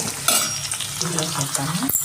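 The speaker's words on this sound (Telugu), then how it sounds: "ఆయిల్తో ఆనియన్స్ బాగా ఫ్రై చేయాలి" Onions with curry leaves fry in hot oil, giving a loud, constant sizzle with stirring scrapes, under a brief spoken phrase.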